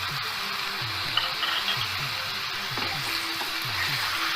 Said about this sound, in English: Mixing it to saute it.